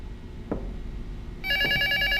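An old-style telephone in a horror video game begins ringing partway through, a bright rapid electronic trill that starts abruptly over a low droning ambience after a couple of soft thuds.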